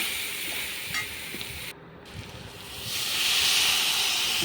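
Beef and onion masala for a Kerala-style beef roast sizzles in a pan with constant frying hiss and occasional stirring scrapes. After a momentary dip, the sizzle swells louder and brighter toward the end, with no voices.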